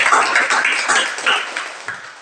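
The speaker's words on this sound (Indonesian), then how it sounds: "Baik, tepuk tangan dulu." A class of students applauds, a brisk, close patter of many hands clapping in waves that gradually fade.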